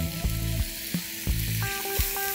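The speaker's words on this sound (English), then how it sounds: "Time to add in chopped tomatoes." Chopped tomatoes hit a hot pan of ginger-garlic paste for squid masala and sizzle loudly. Steady frying hiss fills the clip, broken by repeated clanks of a spoon stirring against the pan.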